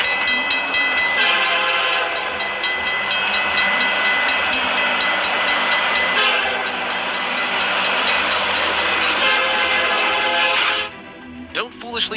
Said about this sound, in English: Don't foolishly cross train tracks when the warning alarms are active.